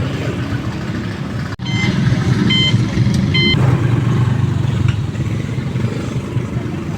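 Motorized tricycle ride through town, a steady engine and road rumble throughout with brief beeping tones of traffic around, people talking over the ride.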